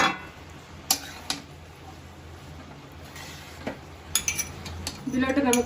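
Rice pulao is mixed together in a cooking pot, with scattered metallic spoon scrapes and clinks against the pot over a steady low background hum.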